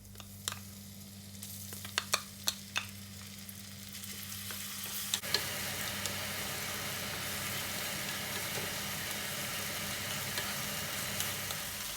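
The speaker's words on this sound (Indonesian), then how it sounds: "Masukkan kurang lebih 3 sendok makan minyak goreng untuk menumis bumbu yang sudah dihaluskan." After a few sharp clicks and clatters, ground Balinese spice paste for ayam betutu hits about three tablespoons of hot oil and sizzles loudly, settling into a continuous, close frying hiss with no talking.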